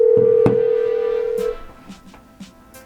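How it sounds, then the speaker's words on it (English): A phone call is placed through an LG XBOOM Go portable speaker: a steady dial tone and a sharp beep play, then the tone cuts off, leaving faint clicks and quiet background. "Let's make a phone call."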